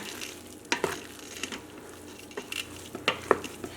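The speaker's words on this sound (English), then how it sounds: "you're going to stir this until it's all combined" Fried rice being stirred in an Instant Pot, with scattered scraping and clinking of a utensil against the pot over a soft sizzle, the knocks irregular and fairly close.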